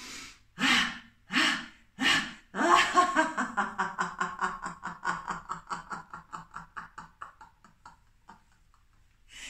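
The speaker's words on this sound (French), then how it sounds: "Inspirez, dernière fois." Laughter-yoga breathing exercise: a few short sharp breaths, then a deep inhale breaking into a long run of rhythmic breathy laughing pulses that slowly fade, close and alone.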